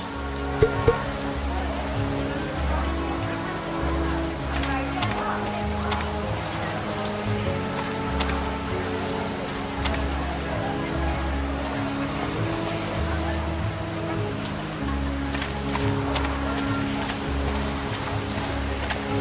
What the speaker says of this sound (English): I turn up my collar against the rain.